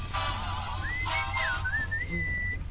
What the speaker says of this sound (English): What is that wind whistling sound?